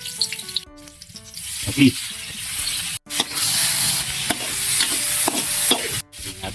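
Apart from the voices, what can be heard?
sautéing garlic and onion in cooking oil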